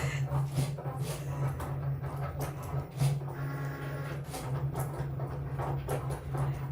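A Cricut cutting machine slicing shimmer vinyl, giving a steady mechanical hum with soft, irregular clicks and whirs as the carriage moves back and forth close by.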